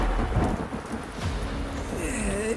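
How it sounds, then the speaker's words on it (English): Heavy thunderstorm with rolling thunder and steady rain, a dense continuous roar with low rumbles swelling throughout, loud and close. "In storms this intense, you can easily expect to see frequent strikes of gigavolt lightning."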